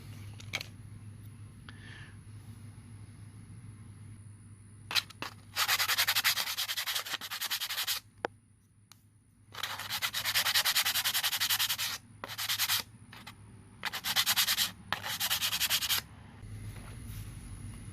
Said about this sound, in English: I'll take a little of this 220 grit sandpaper I got. Just get rid of some of the burrs on here